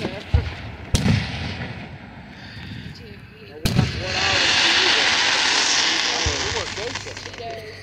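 Fireworks launched at a show at Riches Farms in Fayette County: two sharp thumps and a loud crack, then a long sustained hiss and crackle of bursts overhead, with faint voices in the background.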